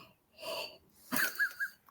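A gasp sound effect triggered from a soundboard button, a sharp breathy intake followed by a few quick wheezy gasping bursts, heard alone.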